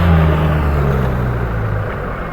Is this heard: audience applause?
no